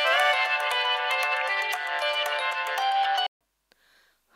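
A mobile phone ringtone plays a bright melodic tune, loud and alone for about three seconds before cutting off abruptly into near silence.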